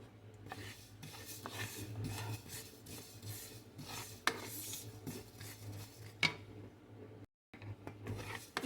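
Black sesame seeds roast in a pan as a spoon stirs them, a continuous close rasping scrape with occasional metallic clinks over a low steady hum, briefly cutting out near the end.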